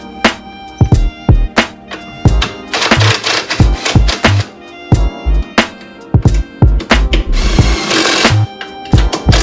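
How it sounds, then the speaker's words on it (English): Transmission mount bolts on a Subaru WRX 5-speed being tightened with tools, heard as a close, loud burst of sharp clicking and ratcheting with rapid rattling runs and short pauses. "And tighten the trans mount bolts."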